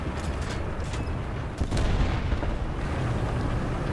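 A KV-2 tank's heavy cannon fires in War Thunder: one deep, loud blast around the middle, set over steady rumbling battle noise and distant gunfire.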